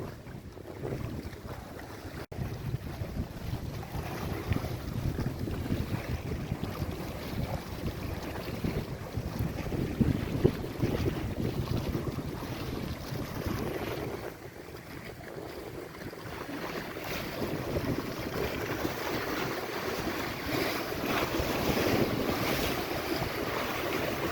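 Wake from an electric sailboat cruising the 1000 Islands washes against shoreline rocks, a continuous churning surf under strong wind buffeting the microphone, loud and unbroken for over twenty seconds.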